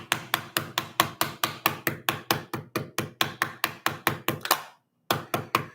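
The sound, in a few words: hammering building-block pieces of Mould King TIE Bomber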